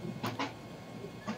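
Interior of a moving passenger train bound for Chandpur: a steady low rumble of wheels on track with a few brief clattering bursts, fairly close and continuous, no talking.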